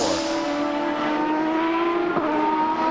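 Paul Tracy's Champ Car on a warm-up lap during qualifying at Portland in 2003, its engine a steady high-pitched whine throughout, loud and close, with a gear change or blip near the end.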